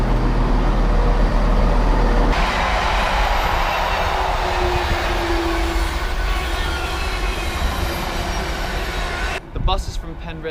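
A train bound for Penrith rumbles steadily along the rails, a constant loud low roar with rattling carriage noise, ending in a burst of clattering near the close.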